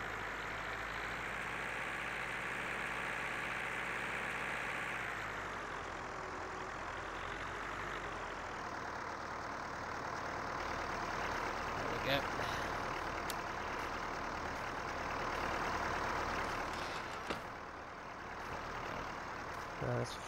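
A tractor idles in the farming game Farming Simulator 19, a low, steady engine drone that holds for several seconds, then thins and fades under faint clicks and background hum.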